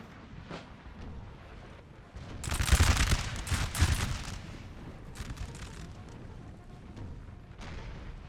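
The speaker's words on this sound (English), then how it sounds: "This is where they will excel in the line fight, as they will get some nice volleys off." Musket volleys ring out in a Napoleonic Total War 3 line battle, a dense crackling burst of massed fire swelling loud for about two seconds mid-scene, then fading back to a distant rumble of scattered shots.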